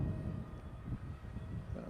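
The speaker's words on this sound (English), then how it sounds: "now I should be able to push it forward and then transition to airplane mode" A Swan K1 PRO VTOL FPV wing flying forward in airplane mode gives a steady, moderately loud motor and propeller drone with wind rush, heard alone and without speech.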